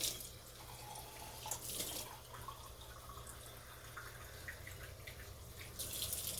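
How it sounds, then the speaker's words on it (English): A can of water poured into a pot of beans, a steady quiet splashing stream lasting several seconds over low background hum, with no talking. "so let's add a can of water"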